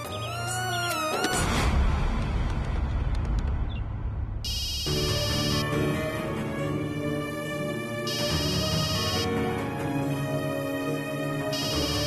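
A telephone rings out in a repeating electronic pattern, steady tonal pulses cycling on and off at an even rhythm, clear and close with no voices over it.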